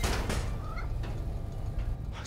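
A cat meows in Marvel's Spider-Man, one short, mid-pitched meow heard over a steady wash of game background noise.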